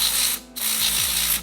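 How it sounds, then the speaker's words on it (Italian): Spray cleaner shot onto a mountain bike disc brake rotor and pads in two long hissing bursts separated by a brief pause, close and loud with no talking. "basta spruzzare sul disco una quantità abbastanza elevata di spray in modo da pulire"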